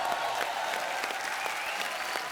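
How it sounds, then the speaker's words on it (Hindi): Studio audience at The Kapil Sharma Show, a television comedy show, breaks into brisk, dense clapping that stays even and close for the whole stretch, with no voices over it. "एक बार यूवी बाजी के लिए जोरदार तालियां।"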